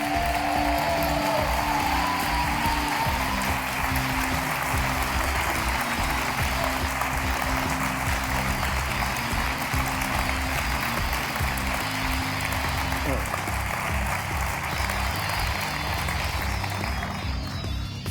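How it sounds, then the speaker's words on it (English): A stage audience claps and cheers continuously and loudly, a dense, sustained wave of applause. "He stops the applause."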